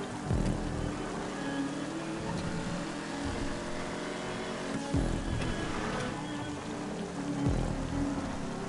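Rain falling in a GTA racing game, a steady hiss of rain on surfaces mixed with a low rumbling vehicle drone and a few brief heavier thumps.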